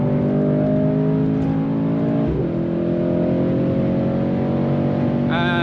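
A 2018 Mercedes-AMG C63S in Sport Plus mode accelerates at full throttle, its engine droning loud and rising in pitch from inside the cabin, with a brief gear-shift dip midway.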